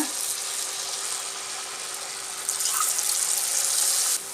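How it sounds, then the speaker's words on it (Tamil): Kuzhal paniyaram rolls fry in hot oil with a continuous close sizzle that swells a little louder midway, without speech. "இப்போ இந்த ரோல் பண்ணி வச்சது எண்ணெயில் போட்டு ஃப்ரை பண்ணி எடுத்துடலாம்"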